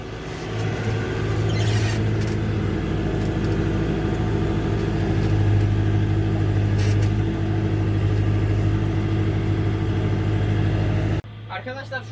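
A Massey Ferguson 5450 tractor engine labours steadily while pulling an 11-tine chisel plough through damp, partly muddy field soil, a loud continuous drone with a few brief knocks that cuts off abruptly near the end.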